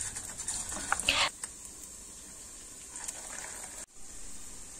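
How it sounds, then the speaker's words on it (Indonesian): Rounded meatball dough fries in hot oil in a wok over medium heat, giving a steady bright sizzle throughout, with a brief louder splash early on and a short dip in the hiss near the end. "goreng dengan api sedang sampai semua adonan mengembang atau semua menjadi besar"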